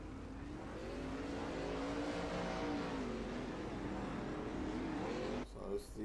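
410 sprint car engines roaring at Eldora dirt track under caution behind a pace truck, a steady, fairly distant drone with shifting pitch, a commentator talking over it throughout.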